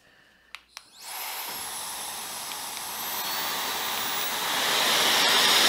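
After two sharp clicks, a Fulljion cordless jet dry blower starts up with a loud, high-pitched rush of air that spools into a steady whine and grows gradually louder and stronger toward the end.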